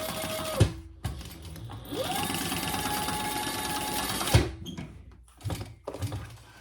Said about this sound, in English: So let's just baste that in place on each side.